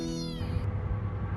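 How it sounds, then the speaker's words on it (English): A stray kitten meows desperately, one loud, drawn-out, high-pitched cry that trails off into faint background noise. "she was just meowing so desperately"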